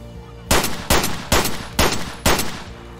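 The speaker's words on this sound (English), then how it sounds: "Two fuckers shooting at me now" Gunfire rings out in the Escape From Tarkov shooter game, five loud, sharp shots spaced about half a second apart, each with a short echoing tail.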